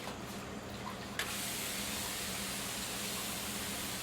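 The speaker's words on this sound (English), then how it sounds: "Just spraying some tea." Tea spritzed from a spray bottle onto craft paper napkins: a soft broadband hiss that begins after about a second and holds steady, close and fairly quiet, with no talk.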